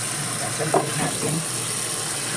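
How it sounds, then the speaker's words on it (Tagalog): Water comes to a rolling boil in a cooking pot, a steady close hiss with soft bubbling churning underneath. "Ayan, bumubulwak na siya."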